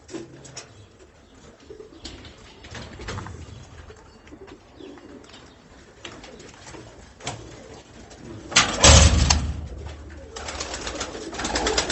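Pigeons coo on a farm during their breeding season, soft repeated coos scattered through the stretch with faint chirps and one brief louder flutter or knock near the end.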